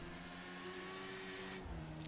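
A car accelerating in the video game GTA V, with a steady, loud engine drone that shifts in pitch partway through, heard without talk.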